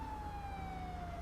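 A wailing police siren in Grand Theft Auto V sweeps steadily over a low engine rumble, continuous and fairly loud.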